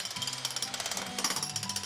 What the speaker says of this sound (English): we'll jackhammer the concrete around the inside perimeter of your basement